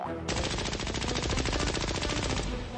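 Rapid, continuous machine gun fire in the Poppy Playtime Chapter 3 video game, a loud dense stream of shots lasting a few seconds before cutting off abruptly.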